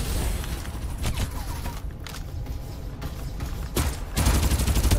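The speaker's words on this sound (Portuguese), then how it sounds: "Um tiro" Gunfire in the battle royale game Farlight 84, a sustained fusillade of rapid shots with louder bursts and mechanical clatter toward the end.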